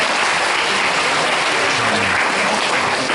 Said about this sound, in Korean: 우리 센스 있는 도우미의 박수를 부탁드리겠습니다